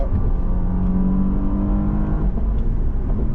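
A Porsche Panamera 4 E-Hybrid exhaust drones with a low, steady rumble, the engine note rising slightly as it revs, heard from inside the cabin without any talking.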